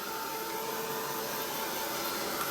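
A hair dryer drying acrylic paint on a painting's background, blowing in a steady, loud, unbroken roar from start to finish.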